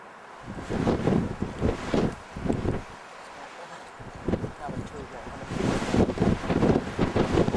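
Strong wind gusts across an open mountainside where chamois graze, buffeting the microphone in loud, uneven rushes with brief lulls, while someone talks over it.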